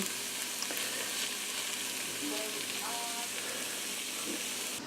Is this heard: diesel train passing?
no